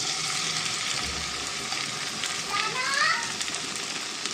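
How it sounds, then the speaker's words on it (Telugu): Okra pieces deep frying in hot oil, a steady dense sizzle throughout with a voice talking over it and a brief higher squeak near the end. "బెండకాయ ముక్కలు వేసేసుకుందామండి తక్కువ తక్కువ వేసుకొని ఫ్రై చేసుకుందాం"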